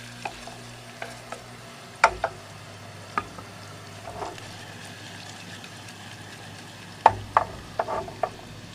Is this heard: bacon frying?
yes